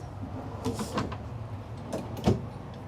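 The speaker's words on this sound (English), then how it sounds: "Another drawer" A drawer in a 2024 Winnebago Navion 24D RV slides open or shut, making a few faint, soft knocks and a light clunk in a quiet interior.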